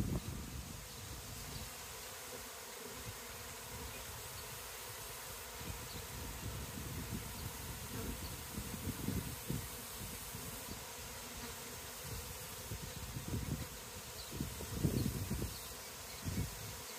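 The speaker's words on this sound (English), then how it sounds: "I can't believe the bees have swarmed right now" A steady insect drone fills the air, like many bees buzzing at a distance from a swarming hive, with gusty wind rumbling and rustling underneath throughout.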